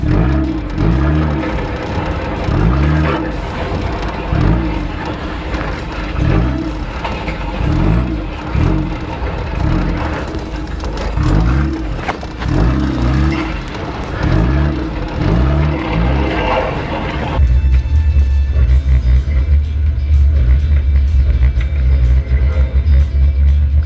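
Car engine revving hard in a skid plate race, rhythmic surging throttle pulses for most of the run, then a steady loud low rumble near the end, close and dominant with no talk.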